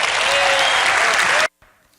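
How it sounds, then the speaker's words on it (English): An audience applauds after a presentation at a national gathering, with dense sustained clapping for about a second and a half before it cuts off sharply into near silence. "Wow, clap for Gary"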